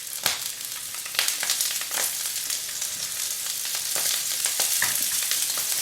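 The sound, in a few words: sausages frying in a Masterpan frying pan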